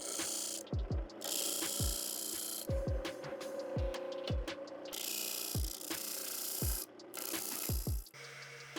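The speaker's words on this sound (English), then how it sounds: "I prefer to do it like this and just sand them away really quick" Sanding splines flush on a wooden picture frame produces a continuous close abrasive whir, broken by frequent sharp knocks and short pauses as the tool moves across the wood.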